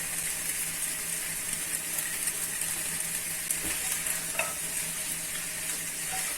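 Flat green beans join potatoes frying in a pan, and a steady, bright sizzle runs throughout with a few soft clinks and stirring scrapes rising briefly above it.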